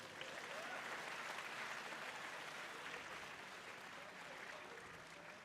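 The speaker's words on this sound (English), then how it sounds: "Give a big round of applause to ICAI." An audience at a national conference of CA students applauds steadily, with dense sustained clapping from a large crowd lasting several seconds at an even level.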